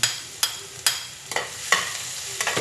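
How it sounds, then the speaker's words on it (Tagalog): Garlic is frying in cooking oil in a hot pan, with a steady sizzle broken by about six sharp scrapes of a spatula stirring at an even pace, close and fairly loud, with no voices. "kapag mainit na yung ating kawali, ilagay na natin ang ating bawang"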